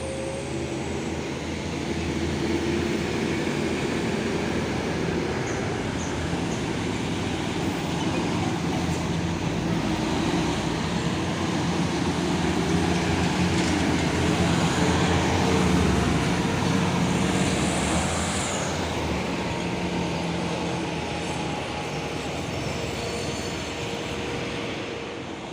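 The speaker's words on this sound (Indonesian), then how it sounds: "ini juga ada satu nih truk Puso Victor X melewati tanjakan Bukit Kodok" A Puso Victor X truck grinds slowly up the Bukit Kodok hill, its engine a steady, loud low drone with a broad rumble that barely changes over the whole stretch.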